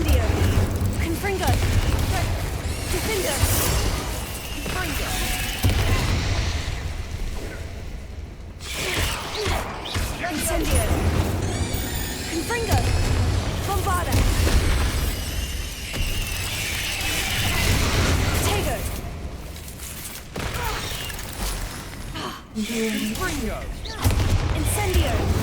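Confringo spell blasts in Hogwarts Legacy crackle and boom amid a dense, continuous barrage of combat effects, loud and close, with voices shouting over the chaos.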